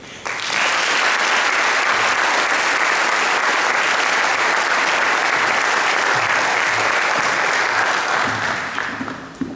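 Audience applause fills a school baccalaureate ceremony for the class of 2016, a dense, steady wash of clapping from many hands that holds loud and even for nearly ten seconds before tapering at the end.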